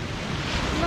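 A brief, steady wash of sea surf rolls onto the shore at a beach campsite, with a continuous close roar blurred by wind against the microphone.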